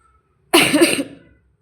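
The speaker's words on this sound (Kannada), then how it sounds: "ಮಧ್ಯೆ ನನಗೆ ಕೆಮ್ಮು ಬರ್ತಿದ್ದು ಡಿಸ್ಟರ್ಬೆನ್ಸ್ ಆದರೆ ಐ ಆಮ್ ವೆರಿ ಸಾರಿ" A single harsh cough, close and loud, with a brief rasp trailing off into silence.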